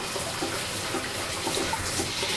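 Water from a running shower hisses and patters steadily at low level, with faint splashing throughout.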